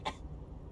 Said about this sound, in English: The little guy starts coughing.